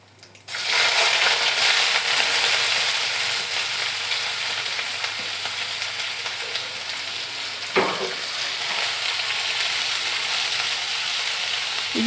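Chopped onions, cumin, mustard seeds and green chillies frying in hot oil, a loud, continuous close sizzle that bursts in after a quiet start, with one brief stir partway through.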